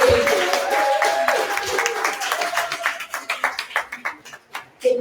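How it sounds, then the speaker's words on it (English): Audience applause at a live event, a burst of clapping that thins into a few distinct claps and fades out, with a voice speaking near the start. "let's give a round of applause to Lisa, Jessica, and Bob for being here."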